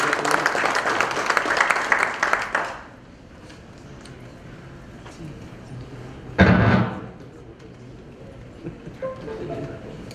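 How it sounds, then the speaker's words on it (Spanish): Audience applause at a national notarial conference in Cajamarca, a dense burst of many hands clapping for roughly three seconds before fading into room quiet, followed later by a brief thump. "Demos un aplauso, por favor, al doctor César Bazán Naveda"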